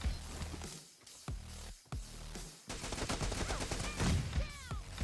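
Rapid gunfire bursts in a PUBG Mobile team deathmatch, loud automatic weapon fire in repeated volleys with brief gaps, crisp and close.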